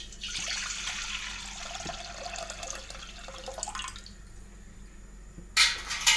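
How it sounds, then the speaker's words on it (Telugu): Water poured from a small tumbler into a pot of ragi flour for porridge, a steady close splashing and trickling pour that thins out toward the end before a couple of brief clinks. "ఇదిగోండి, వాటర్ పోస్తున్నాను."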